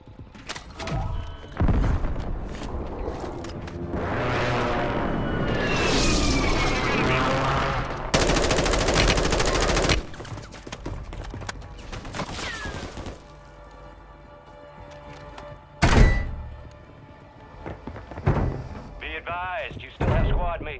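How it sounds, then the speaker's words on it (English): Airstrike explosions and heavy gunfire boom and crackle in Call of Duty Warzone on Rebirth Island, with loud blasts, rapid bursts and sharp impacts scattered across the stretch alongside player talk. "Friendly airstrike in the AO."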